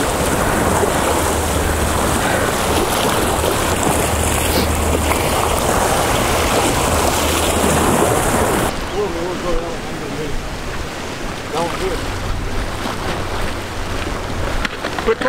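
Ocean waves wash against a rocky fishing jetty in a steady, loud broadband roar, with wind buffeting the microphone; the surf softens somewhat partway through.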